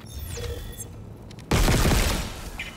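Gunfire in the Dead Space Remake video game, starting as a sudden loud dense burst of shots after a quieter stretch of game ambience and mechanical noise.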